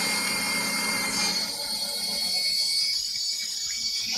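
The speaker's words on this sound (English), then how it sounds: "It's going to be a lot of hole drilling" A power tool boring holes in wooden shelf pieces for a miter saw station, a loud whining motor that drops in pitch as the bit bites, continuous for the whole stretch.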